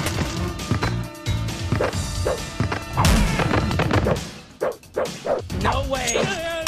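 A killer dog character in the horror fighting game Terrordrome: Rise of the Boogeymen barks repeatedly amid loud game hits, crashes and music, with a player's voice talking excitedly over it.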